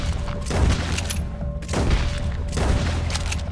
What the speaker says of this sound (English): Just shoot every bullet I have into it.